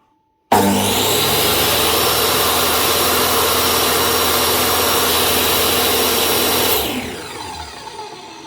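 A Dewalt DWE7492 10-inch table saw motor starts abruptly and runs at a loud, steady whine as it sucks in air, then spins down near the end, close and alone.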